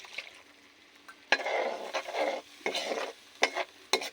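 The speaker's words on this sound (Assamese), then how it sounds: "এই পেষ্টখিনি মই এতিয়া ইয়াত এই বিলাহীখিনি ইয়াত দি দিম" A spice paste of garam masala, meat masala, cumin and red chili is stirred with tomatoes in a hot pan for an Assamese fish curry: close bursts of sizzling and scraping strokes come in uneven pulses.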